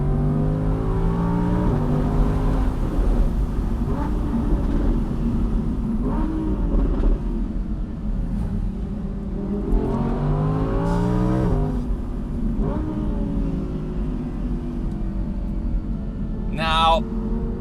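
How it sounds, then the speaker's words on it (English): An Audi R8 V10 Plus Spyder's V10 engine revs in rising surges, loud and close, with a spoken voice running over it throughout. "just because you can hear the V10"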